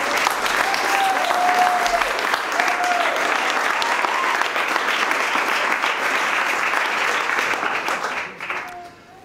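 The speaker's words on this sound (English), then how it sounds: "Big clap for the mammies" Wedding guests at a humanist ceremony applaud the mothers in a steady, loud round of clapping that lasts several seconds before tapering off near the end.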